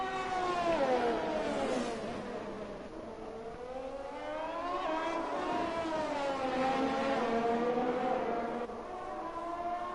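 Ferrari Formula 1 cars racing at San Marino in a racing video game, a high engine whine rising and falling through gear changes as the cars accelerate and brake, loud and continuous, with no voices over it.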